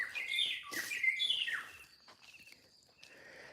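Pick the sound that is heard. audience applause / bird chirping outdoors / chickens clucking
bird chirping outdoors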